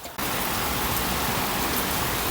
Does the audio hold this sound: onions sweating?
no